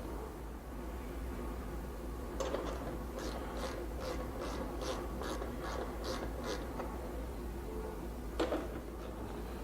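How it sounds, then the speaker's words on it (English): A 3/8 inch wrench and socket ratcheting while a shroud is removed from a Graco InvisiPac unit, giving a quick, even run of soft clicks over steady background hiss, then one last click. "For that, I'm going to be using the 3/8 inch wrench and socket."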